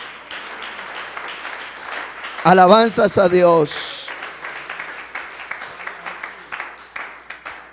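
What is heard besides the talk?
audience applause in church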